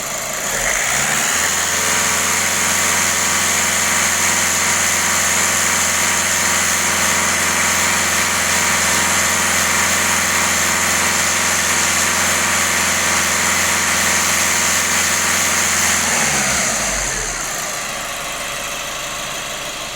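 A VW Golf 1.6 TDI diesel engine is held at full throttle, giving a loud, steady, high-revving roar that runs close and unbroken for about fifteen seconds before dropping back toward idle.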